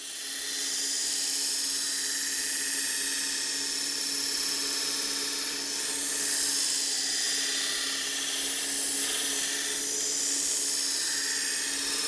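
Katoku knife blade held against a spinning grinding wheel, giving a steady high whine with a constant hum that runs evenly throughout, close and loud with no speech.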